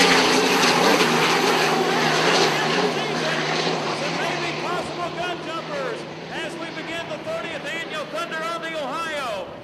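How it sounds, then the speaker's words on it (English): A turbocharged Allison-engined hydroplane race boat roars at the start of a heat in Evansville, a loud sustained engine drone with rising and falling pitch sweeps as boats pass, under continuous commentary. "It's the turbocharged Allison Master Tire in front with Jimmy King."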